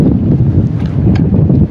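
Steady wind blows outdoors in hot weather, a loud, unbroken low rumble buffeting the microphone from start to finish with no speech.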